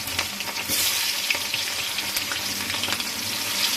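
Onions go into hot oil in a kadai and fry with a loud, dense sizzle and crackle that stays steady and close, with occasional stirring scrapes and no voices.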